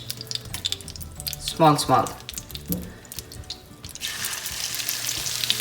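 Tap water runs and splashes over hands while shrimp cakes are shaped for frying, with bursts of flowing water and drips near the sink, a voice talking over it, and a brighter hiss of water near the end.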